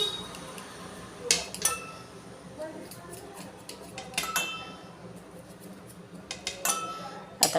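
A knife clinks and taps against a plate while slicing set patwadi into barfi-shaped pieces, with irregular sharp metallic ticks spread throughout and someone talking quietly underneath.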